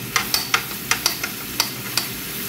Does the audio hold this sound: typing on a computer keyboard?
no